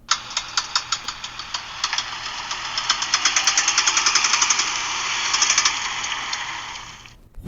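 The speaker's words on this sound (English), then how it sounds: "it's definitely like bad internal engine noises" A rapid, harsh knocking clatters from an engine, steady metallic rattling that builds and holds for several seconds before cutting off.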